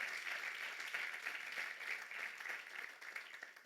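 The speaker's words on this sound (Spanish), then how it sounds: "Den un aplauso a Jesucristo" A church congregation applauds Jesus Christ during a sermon, a steady wash of hand claps filling the room for several seconds at moderate, even loudness without voices.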